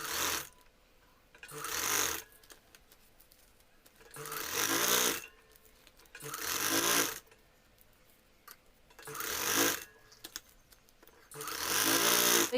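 A sewing machine stitches fabric on a puff sleeve to hold the pleats in place, running in six fairly quiet bursts of rapid whirring evenly separated by short pauses.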